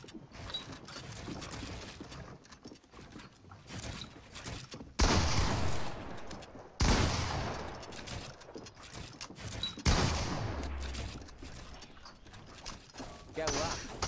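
Loud pump shotgun blasts in the video game Fortnite hit at about 5, 7 and 10 seconds, each followed by mechanical clacking, mixed with lighter game effects and talk.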